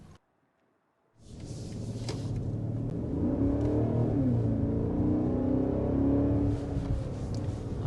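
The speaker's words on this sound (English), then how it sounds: "there's a quick punch of the accelerator here in the 7 Series" A 2023 BMW 760i 7 Series with over 500 horsepower takes a quick punch of the throttle, its engine swelling from near silence into a sustained, loud, smooth rumbling roar heard from inside the car, with no talk.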